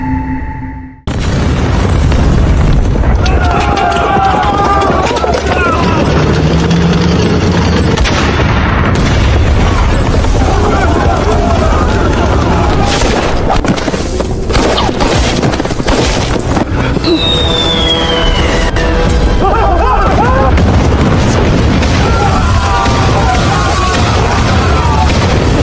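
Hand grenades explode one after another on a battlefield, making a loud, continuous barrage of booms and rumbling blasts with scattered crackles, and voices shouting beneath the din.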